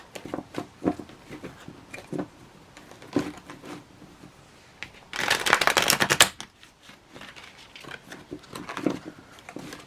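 Slick tarot cards are shuffled close up, soft riffling flicks and taps scattered through the clip with one dense burst of rapid shuffling in the middle, alone with no talk.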